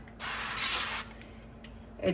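Avocado and extra virgin olive oil cooking spray hisses out in one short burst of about a second, loud and close, then stops with faint handling noise after.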